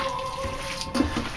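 Water pours and splashes into ground Polish kielbasa sausage meat in a kitchen bowl, a short, soft liquid trickle with a brief louder splash near the end.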